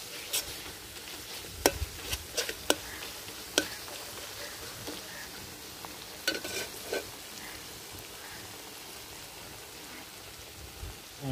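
Spice masala fries in a pan with a soft, steady, rain-like sizzle, broken now and then by sharp ticks and spoon scrapes, several clustered early and a few more later.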